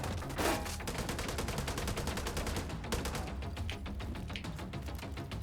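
Rapid sustained automatic gunfire from a newly upgraded gun in The Division 2, a dense stream of close, loud shots running continuously throughout.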